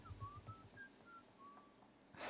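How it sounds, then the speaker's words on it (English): Soft human whistling fading out at the close of a song, a thin melodic line of a few sustained notes, quiet and distant, ending in a brief burst of noise. "You just hear the whistle fade down at the end."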